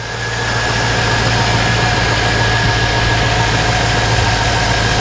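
A Chevrolet Suburban engine idling after an alternator repair, a loud steady rumble with a constant whine layered over it, close and continuous without talk.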